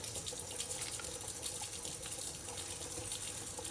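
Water from a tap runs steadily over a Stanley tumbler lid as it is rinsed, making a continuous close splashing gush with no talk.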